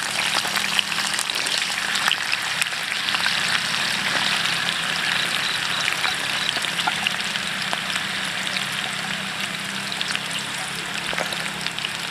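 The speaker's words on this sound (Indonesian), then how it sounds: "Kita goreng lagi." Potatoes frying in hot oil for a spicy belado dish give a steady, dense sizzle and crackle that continues evenly throughout, with no voices.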